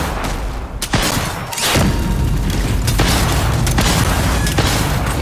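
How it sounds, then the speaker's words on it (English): A video game world boss fight with a grenade and rocket launcher combo, heard as a loud, dense stretch of booming blasts and rapid gunfire crackle with sharp impacts and no clear pauses. "Let me just sneak a grenade."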